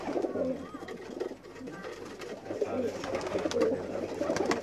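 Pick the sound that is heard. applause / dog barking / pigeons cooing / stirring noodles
pigeons cooing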